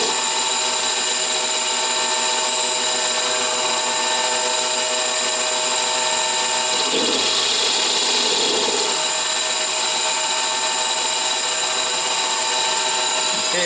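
A 9x20 benchtop CNC lathe run by Mach3 spins its spindle while turning a part, giving a loud, steady mechanical whine with sustained tonal hum, close up, and a brief rougher surge of cutting noise about halfway through, with no talking.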